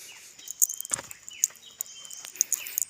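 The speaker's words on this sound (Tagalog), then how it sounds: "Ibon lang yung maririnig mo dito." Birds in a forest give sharp, high chirps and tweets scattered across the moment, some closer and louder, with a brief flutter-like burst and no talk.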